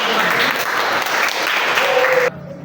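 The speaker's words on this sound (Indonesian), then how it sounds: "Oke, silakan kembali beri tepuk tangan buat teman-teman." A high school class applauds their classmates with dense, steady clapping for about two seconds. It cuts off abruptly, and a quieter voice follows.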